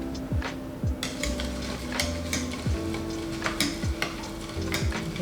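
Lye solution for cold process handmade soap being stirred in a container, with repeated scraping and clinking strokes over a steady fizzing hiss, close and fairly loud, no talk.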